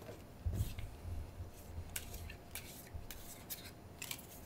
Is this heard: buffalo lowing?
no